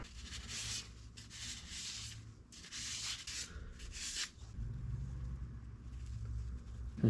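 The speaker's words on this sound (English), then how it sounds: "I just realized these walls are so thin that I'm just gonna have to sand it." Close, soft rhythmic rubbing of sandpaper against a small, thin-walled resin lidded box on a lathe, steady strokes at a low level with no voices.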